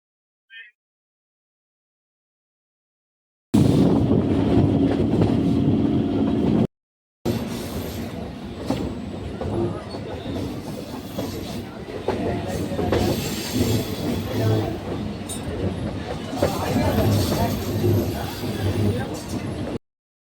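A train pulling in at platform 4 of Ranaghat junction, its loud rumble and rolling wheels rising after an opening silence, with a brief cut and then continued clatter and busy platform noise.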